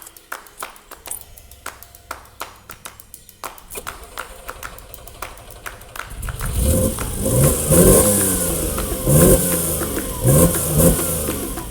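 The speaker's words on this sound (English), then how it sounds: "Clutch goes in, it bites, it moves off, you keep the revs up." The Ferrari-built engine of a Fiat Dino Spider clatters and ticks at idle, then the car pulls away with rising, falling revs through several loud surges, close and alone with no talk.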